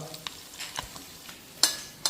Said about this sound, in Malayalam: മീൻ വേകുന്ന സമയത്ത് നമ്മൾ ചൂണ്ടയിട്ട് പിടിച്ച മീൻ കുറച്ച് വറുത്തും എടുക്കുന്നുണ്ട്